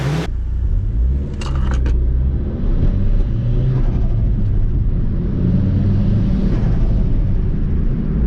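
A Mitsubishi Evo with a 4G63 engine heard from inside while driving, a steady low engine rumble and road drone throughout, with a few brief rattles near the start.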